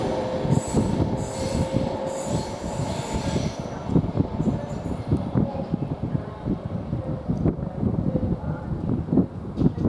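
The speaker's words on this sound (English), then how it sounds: "Now we are getting the London Northwestern Railway service from Birmingham New Street to London Euston" A London Northwestern Railway train on the Birmingham New Street to London Euston service rumbles steadily through Coventry station, with a continuous heavy roll of wheels and faint squeals, and a voice talking quietly in the background.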